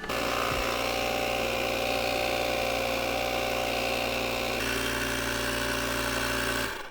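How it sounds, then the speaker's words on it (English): A steady, droning mechanical whir runs throughout as a pump inflates the inner tube for the front tire of an Ariel Rider D-Class eBike, loud and continuous with a slight shift in tone midway, with no talk. "Fill the tube just enough to make it take its form as a circle"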